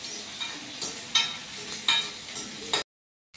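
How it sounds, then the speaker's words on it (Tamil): Onions and tomatoes sizzling and being stirred in a pan for mutton gravy, a steady frying hiss broken by a few scraping stir strokes, close and clear, then abrupt silence. "வெங்காயம் தக்காளியெல்லாம் நல்லா வதங்கிடுச்சு."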